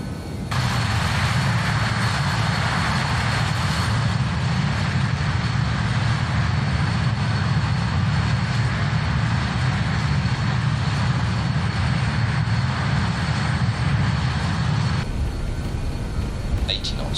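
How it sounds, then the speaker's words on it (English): A Just Flight BAe 146 jet takes off in Microsoft Flight Simulator. Loud, broad engine roar builds in and holds steady for about fourteen seconds, then drops away sharply near the end. "I'm going to shut up and enjoy the takeoff"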